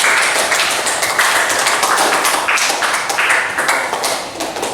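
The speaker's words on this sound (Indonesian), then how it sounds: "Oke, tepuk tangan dulu buat kita." A classroom group of students claps together in a dense, steady burst of overlapping hand claps that fills the whole stretch and tapers slightly at the end.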